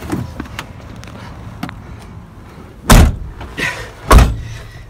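A car door handled outside a decorative concrete work site, with a couple of loud, close thumps and clunks of opening and shutting over quiet background rustle, no talk.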